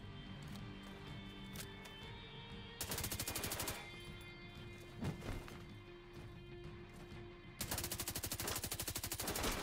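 Rapid automatic gunfire from a weapon in The Division 2, in two sustained loud bursts with scattered single shots between, over a steady background hum.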